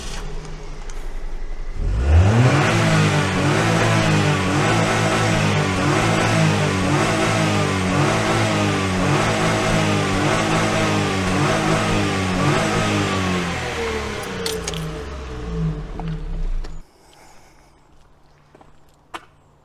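A fully warmed-up Daihatsu car engine revving up from idle, rising in a series of repeated rev swells for about fifteen seconds before cutting off abruptly to near silence.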